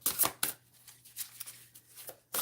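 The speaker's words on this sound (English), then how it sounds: "Shuffle a little bit." A deck of tarot cards is shuffled up close in several quick papery riffles and flicks, with short pauses between them and no talking.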